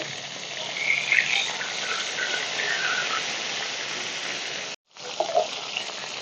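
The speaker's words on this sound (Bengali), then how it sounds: "মাছগুলো আমি সুন্দর লাল লাল করে ভেজে নিয়েছি" Lote fish (Bombay duck) sizzle and crackle steadily in hot oil, a dense, close hiss that drops out briefly near the end before resuming.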